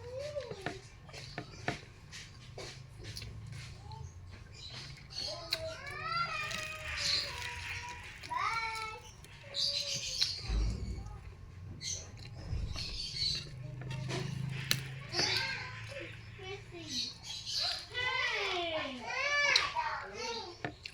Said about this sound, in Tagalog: Ang ingay ng mga bata sa labas. Lalaro siguro.